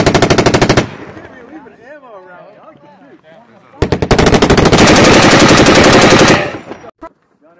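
An M240B machine gun fires live on a range in Finland: a loud close burst, then a long sustained stream of rapid shots, with voices talking in the pause between.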